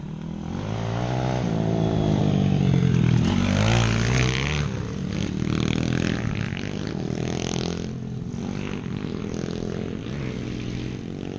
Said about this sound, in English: now I can hear their motorcycle.